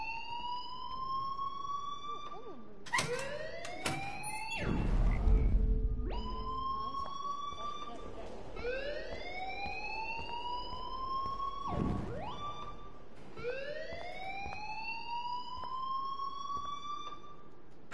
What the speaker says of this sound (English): please turn off that alarm since that's your